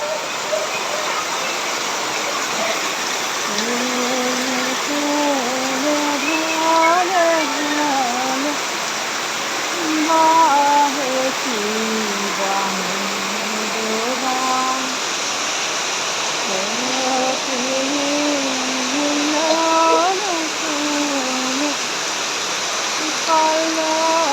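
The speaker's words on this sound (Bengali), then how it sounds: "মুসলধারে বৃষ্টি হচ্ছে মুসলধারে" Torrential heavy rain pours down in a continuous, dense roaring wash that holds steady throughout, while a person speaks over it for much of the time.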